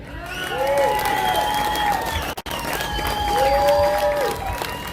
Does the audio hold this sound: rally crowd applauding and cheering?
yes